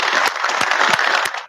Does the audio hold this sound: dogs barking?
no